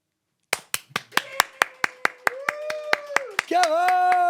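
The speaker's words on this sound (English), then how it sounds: "that was the most delayed, insincere, give a fuck clap I've ever heard in my life" One person claps slowly and unevenly, about a dozen sharp close claps that speed up a little before voices cut in at the end.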